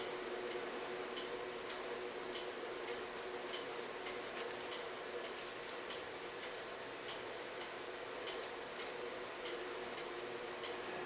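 Scissors snipping through long hair during a salon haircut, a quick series of light, crisp clicks close by over a steady background hiss, with no talk.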